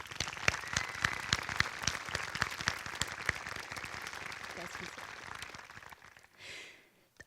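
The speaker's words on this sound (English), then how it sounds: "Please give them a round of applause" At a Sharpsville Area School District graduation ceremony, the crowd applauds honor society students with a steady patter of many hands, a few claps popping out close by, fading out near the end as a breathy sound follows.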